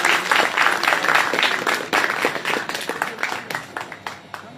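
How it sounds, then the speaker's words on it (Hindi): Applause welcoming a colonel onto the stage at a talk on regional peace and global harmony, a dense burst of many hands clapping that holds steady and then gradually thins and fades out. "आइए जोरदार तालियों की गड़गड़ाहट के साथ हम स्वागत करेंगे"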